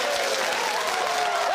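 A studio audience at a TV quiz show cheers and applauds, a dense steady wash of clapping with a few whoops, loud and continuous throughout.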